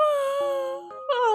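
A long, drawn-out vocal yawn, sounding like a sliding moan or wail that breaks briefly and rises again, close and fairly loud with no other voices.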